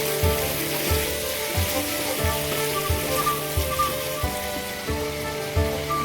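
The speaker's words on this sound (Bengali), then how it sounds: "এবার আমি আবারও সবগুলো একসঙ্গে ভালোভাবে নেড়ে চেড়ে মিশিয়ে নেব।" Potato and meat curry sizzles steadily in a frying pan as it is stirred and mixed, a dense crackling hiss that runs continuously with faint scraping pulses through it.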